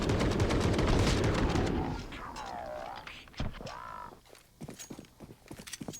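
AK rifles fire in CS:GO on the Mirage map, with a rapid burst of close gunfire opening the clip and then sparser shots and game effects as it fades.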